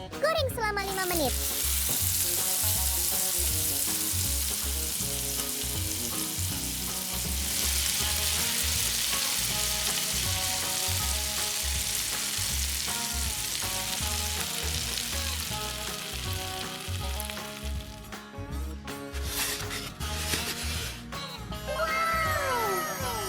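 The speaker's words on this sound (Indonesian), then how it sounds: "Goreng selama 5 menit." Octopus fries in a pan with a loud, steady sizzle that runs throughout, occasionally stirred, and a cat meows intermittently near the end.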